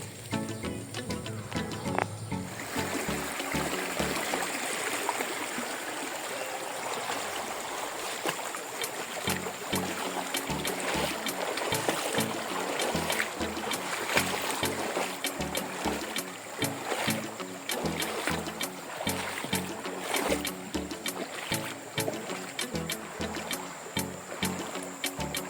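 Steady broadband rush of a river stream at the Kalibaru river headwaters in Kalibaru Manis, Banyuwangi, flowing continuously and fairly loud throughout with no talk.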